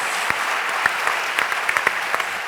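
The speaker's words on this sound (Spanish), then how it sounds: "Un fuerte aplaudiment, sisplau." A conference audience at a round-table discussion claps steadily after the session closes, with dense applause and a few sharper, louder individual claps standing out near the listener.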